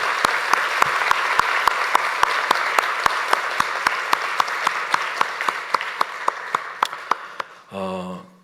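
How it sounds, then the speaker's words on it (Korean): A church congregation at an evening service applauds, a dense sustained wash of clapping with a few sharp, loud claps close by, ending abruptly as a voice begins to speak. "뜨겁게 박수로 격려합니다."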